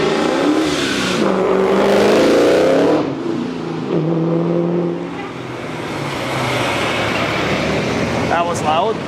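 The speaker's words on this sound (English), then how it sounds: "Some kid decided to show us how his muffler isn't that good." A car with a poor muffler revs loudly nearby, its rough engine note rising then falling and continuing as a heavy roar, with talk over it.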